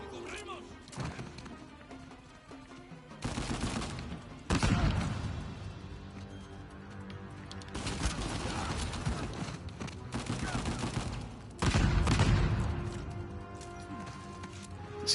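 Gunfire in the Uncharted 4 video game, bursts of shots and booming impacts coming in clusters between quieter stretches, with a voice talking over much of it.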